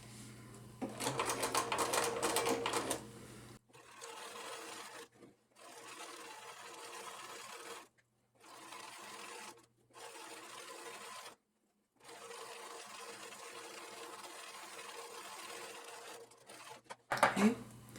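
A sewing machine stitches a 1/4 inch seam on a fabric grocery bag in several close bursts, each a few seconds long and separated by short pauses, with a brief back tack at the top and a voice speaking at the start and end.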